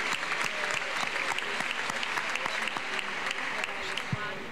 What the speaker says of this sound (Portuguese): Aplausos de todas as bancadas, também André Ventura aplaude António Filipe